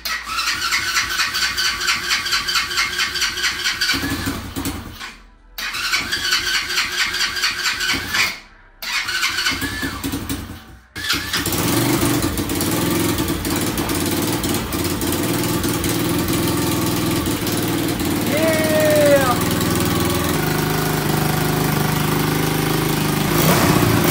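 A homemade mini VW bus engine cranks in several choppy attempts broken by pauses, then fires and keeps running with a steady, rattly putter close by.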